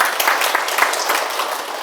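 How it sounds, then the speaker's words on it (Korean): A lecture audience at a Sunday talk breaks into applause, a brief loud burst of many hands clapping close by, dense and steady before tapering slightly. "너무 좋은 질문이니까 박수 한번 치고 가겠습니다"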